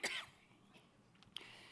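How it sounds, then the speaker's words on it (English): A person gives a sharp cough followed by a brief throat-clearing rasp, then a second short cough about a second later, close and alone in a quiet room. "I don't know why I'm coughing."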